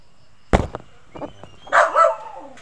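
A dog barks a few times around feeding time on a rural Filipino farm, with short sharp yaps followed by a longer whining bark, close and loud.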